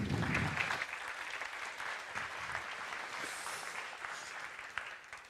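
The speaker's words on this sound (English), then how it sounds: "Once again, big applause for Jeroen, please." An audience claps steadily, a dense patter of applause that starts strong and gradually eases over a few seconds.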